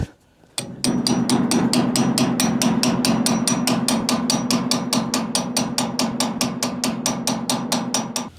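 A hammer whacks a clogged grease zerk fitting in a fast, steady series of sharp metallic blows, dozens of them close and loud, continuing without pause after a brief quiet start.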